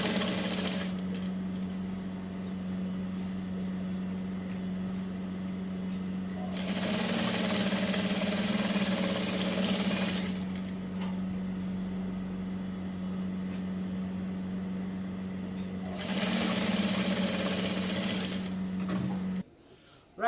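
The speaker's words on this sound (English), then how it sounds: "So we are going to start sewing it up now" A sewing machine stitches a blouse side seam in two sustained bursts of fast, rattling needle action over a steady motor hum, with quieter pauses between them.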